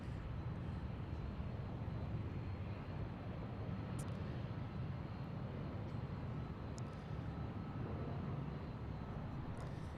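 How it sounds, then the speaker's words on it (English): A small Dash 8 turboprop departing for Vancouver gives a steady, distant engine rumble over constant airport background noise, with no clear rise or fall across the stretch. "this little Dash 8 is headed to Vancouver"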